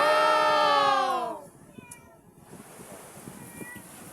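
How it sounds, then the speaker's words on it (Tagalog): A cat gives one loud, drawn-out meow close by, lasting about a second and a half. Faint rustling and low background noise follow at a beach setting. "Umiyak ka pusa."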